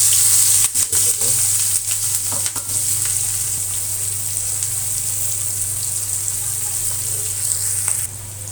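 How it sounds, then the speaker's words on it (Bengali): Spice paste frying in mustard oil in a wok, a steady crackling sizzle with scraping stirs near the start, joined by a constant low hum throughout. "কড়াইতে সরিষার তেল দিয়ে দেবো। তারপরে পেস্ট কষে"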